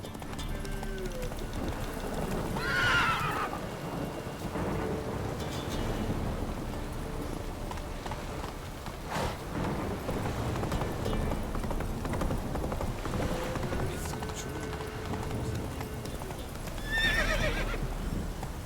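Horse in The Witcher 3 video game neighing twice, once early and once near the end, over continuous hoof clip-clop with a faint rumbling ambience underneath.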